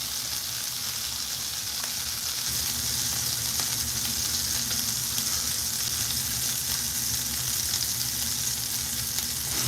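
Lamb burgers frying in a pan, a continuous close, bright sizzle and crackle holding at a steady level throughout without talk.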